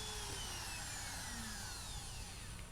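A router bit cuts a saddle slot in an acoustic guitar bridge using a Stu Mac slotting jig, giving a continuous high whining drone with a steady, loud motor tone throughout.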